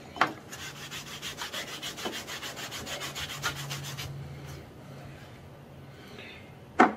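A cloth rubs tung oil into the end grain of pallet wood in quick, steady back-and-forth strokes, a soft close scrubbing that ends with a single sharp knock.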